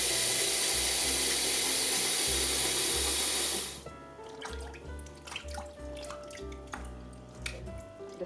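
Water gushes loudly into a kettle for a few seconds, then stops, leaving faint drips and clinks over quiet background music.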